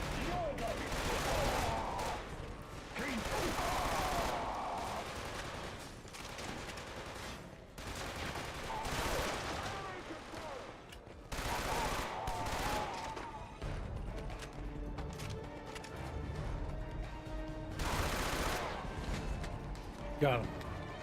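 Rapid submachine-gun bursts in Killzone 2 combat, loud repeated volleys of gunfire with impacts and crashes, broken by brief lulls, with a player talking over the action.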